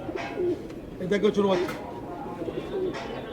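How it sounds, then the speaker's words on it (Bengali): Lakkha (fantail) pigeon chicks coo from cages at a pigeon market in Bangladesh, soft repeated coos close by amid a man's speech and market murmur. "এক আঙ্কেল দুই জোড়া লক্ষা কবুতারা বাচ্চা নিয়ে আসেন"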